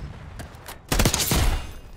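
Gunfire in a Black Ops first-person shooter match, a short faint shot followed by a loud rapid automatic burst lasting about half a second, with no talking.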